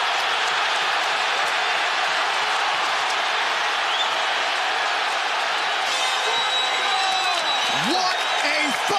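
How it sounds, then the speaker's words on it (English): An arena crowd at Barclays Center roars and applauds after a UFC fight involving Zabit Magomedsharipov, a dense sustained wall of cheering and clapping, loud and unbroken, with a few whistles and shouts rising near the end. "They are standing and cheering at Barclays Center."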